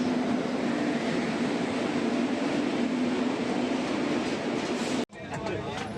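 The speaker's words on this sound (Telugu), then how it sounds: "వచ్చేసింది రాయలసీమ ఎక్స్ప్రెస్." The Rayalaseema Express pulls into a station with a loud, steady rumbling roar that fills the scene, then cuts off abruptly near the end as quieter ambient noise follows.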